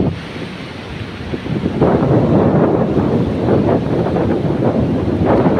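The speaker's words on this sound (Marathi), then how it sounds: "समुद्र तुम्ही बघू शकताय कशा प्रकारे समुद्र खवळलेलो आहे" Rough surf roars continuously on a beach lined with coconut palms while strong wind buffets the microphone, loud and unbroken throughout.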